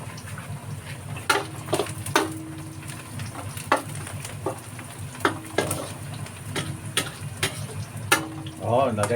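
Fresh onions sauté in a pan with a soft steady sizzle, broken by repeated sharp scrapes and clinks of a spatula stirring against the metal at close range.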